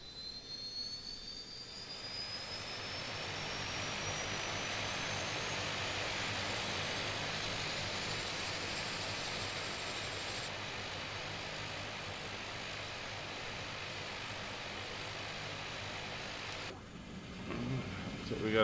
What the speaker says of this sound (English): So we're going to start the right engine.